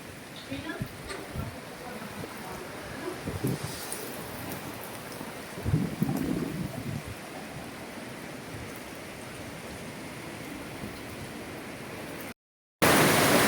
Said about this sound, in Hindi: और हवा के साथ झाए वाली बारिश है।